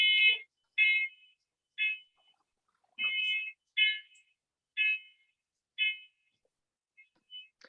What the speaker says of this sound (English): I think that's a fire alarm.